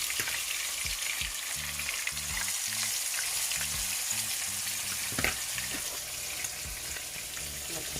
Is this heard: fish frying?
yes